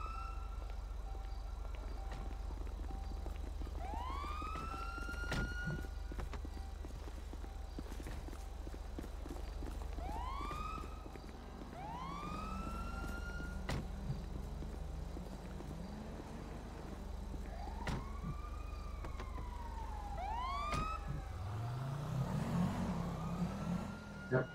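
A police car siren wails in repeated rising sweeps, somewhat distant, over a low engine rumble, with a louder burst of traffic noise near the end.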